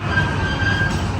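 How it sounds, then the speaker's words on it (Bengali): A small children's train at an amusement park in a city park rolls steadily nearby, a continuous rumbling hum with a faint high tonal whine running through it, and no talking. "ওই পাশ দিয়ে আবার চলন্ত ট্রেন বাচ্চাদের"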